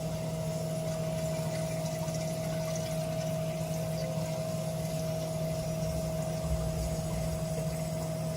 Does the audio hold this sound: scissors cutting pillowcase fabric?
no